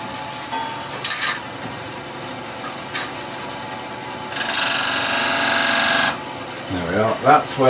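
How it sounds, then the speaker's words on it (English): A drill bores a hole into a wooden tealight blank spinning on a wood lathe, giving a steady, loud grinding whir for about two seconds, with brief scraping bursts before it and a voice speaking afterward. "We'll drill our hole."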